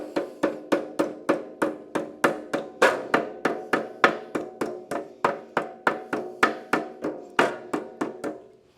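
A hammer taps down the overhanging edge of a sheet metal HVAC duct elbow seam, about twenty-five crisp ringing metallic strikes in a steady, even rhythm, close and fairly loud, with no talking.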